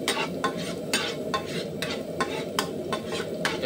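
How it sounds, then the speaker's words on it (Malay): Long beans fry and are stirred in a pan, with a steady sizzle under repeated scraping strokes of a utensil against the metal. "Kita goreng kacang panjang dulu,"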